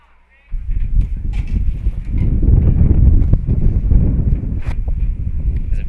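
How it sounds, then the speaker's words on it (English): Wind gusts hard into an open broadcast booth at a high school baseball game, a loud rough buffeting rumble that rises suddenly and stays heavy against the microphone throughout. "big gust of wind just blew into the booth"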